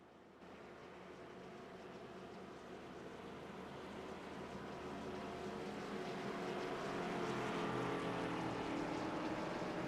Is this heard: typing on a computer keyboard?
no